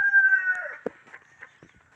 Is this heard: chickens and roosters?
yes